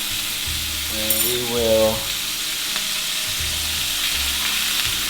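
Potatoes, garlic and onions fry in a pan with a steady, close sizzle throughout, and a voice speaks briefly over the frying.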